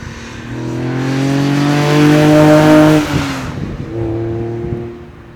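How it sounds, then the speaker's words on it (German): A loud 1971 Fiat Dino 2400 Spider engine, Ferrari-derived, revs up through rising gears with a smooth harmonic whine, drops briefly at a shift, then pulls again before fading. "Das Auto hängt ganz toll am Gas, der geht ab wie die Feuerwehr."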